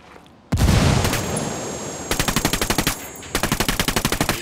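Automatic gunfire in Ghost Recon Wildlands: a loud opening blast and roar, then two distinct rapid bursts of evenly spaced shots, close and alone with no talking.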